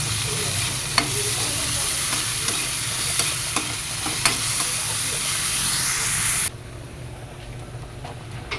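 Shrimp paste (bagoong) and onion sautéing in a pan, a loud close sizzle with regular spoon taps and scrapes, dropping abruptly to a quieter hiss near the end.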